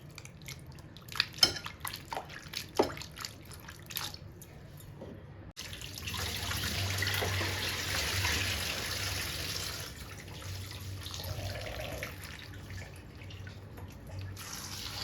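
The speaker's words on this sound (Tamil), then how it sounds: "ரெண்டு மூணு டிப்பு நல்லா தண்ணியில் போட்டு நல்லா கழுவி எடுத்துக்கலாங்க." Cauliflower pieces being washed in a kitchen: a few soft splashes and drips at first, then a steady stream of tap water running into a bowl or sink for several seconds.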